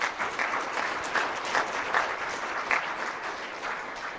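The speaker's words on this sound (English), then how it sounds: "give the panelists a round of applause." Steady applause from a crowd at a public meeting for panelists, continuous clapping at moderate volume throughout with no voices standing out.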